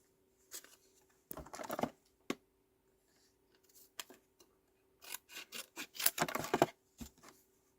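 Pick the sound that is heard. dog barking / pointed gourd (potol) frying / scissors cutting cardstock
scissors cutting cardstock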